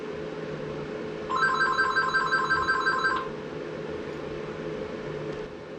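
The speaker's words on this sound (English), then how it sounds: "Running a business, sometimes you actually have to answer the phone call every now and then." A telephone rings in a small business workshop, one electronic ringing burst lasting about two seconds over a steady background hum, then stopping.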